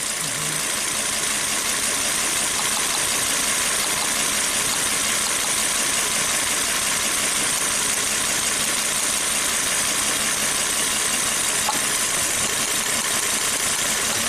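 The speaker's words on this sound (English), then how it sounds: "it's still misfiring, but it sounded better, right?" A misfiring Volvo turbo engine idles roughly and shakes, a constant loud, close drone with uneven pulsing that continues without a break and with no voices over it.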